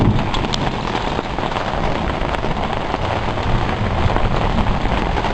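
Steady, heavy rain pours down continuously, a dense hiss of drops drumming on surfaces with no pauses.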